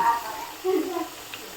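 Potato and papaya pieces frying in oil in a pan, a soft sizzle with brief stirring bursts, fairly quiet and without talk.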